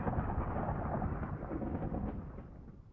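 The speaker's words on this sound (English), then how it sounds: "I can hear thunderstorms in the distance." Distant thunder rolls across the atmosphere of Venus in Minecraft, a muffled, continuous low rumble with no voices.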